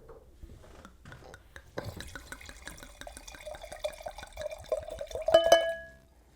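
Red wine, likely a red blend, poured from a freshly uncorked bottle into a glass, a close, soft trickling and dripping liquid stream that builds to a brief louder glug near the end, with faint whispery voices around it.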